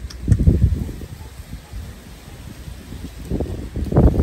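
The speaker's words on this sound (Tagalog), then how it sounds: "Grabe, oh, mahangin pa rin siya talaga" Gusty wind in the aftermath of a typhoon rustles fruit-tree leaves near a rice field, surging in loud bursts at the start and end with a softer lull between.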